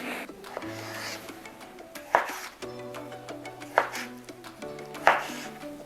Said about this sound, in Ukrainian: нарізаю буряк невеликим кубиком